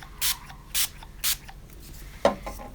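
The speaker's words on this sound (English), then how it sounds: "So I start with a fair amount of spray" Three short hissing bursts of a Distress Oxide ink stain spray bottle in an even rhythm, close by, followed by a soft knock.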